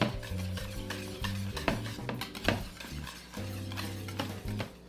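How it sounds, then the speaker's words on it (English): A whisk beats mayonnaise in a bowl, giving rhythmic scraping strokes with metallic clinks against the sides, close and moderately quiet, with no talking. "We're going to whisk these together first."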